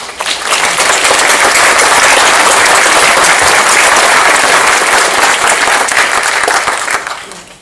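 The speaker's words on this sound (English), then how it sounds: "Please would you join me in a round of applause to thank all our retired." A room full of people at a U3A annual general meeting in Shrewsbury breaks into loud, sustained applause, dense clapping holding for about seven seconds before tapering off.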